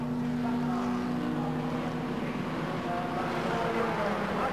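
Historic racing cars, an MGB and a Mercedes among them, drive the Goodwood Revival circuit during the Fordwater Trophy race, a continuous close engine drone with a steady pitch and light crowd murmur underneath.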